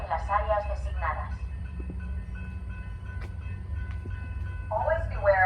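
A train pulls out of a station with a steady low rumble and rolling rail noise throughout, under bilingual public-address announcements at the start and end.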